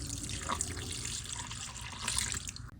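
Shrimp being rinsed under a running kitchen tap: a close, steady splash of flowing water that holds through the short moment, with no talking.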